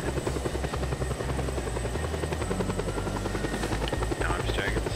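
A helicopter's steady rotor thump and engine drone in the game Just Cause 2 fill the whole stretch, loud and close, with a voice speaking over it.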